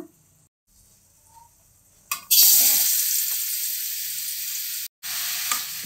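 Cut mushrooms hit hot oil in a pan and burst into a loud sizzle that settles into a steady fry, briefly cut off once before resuming, after a near-silent start.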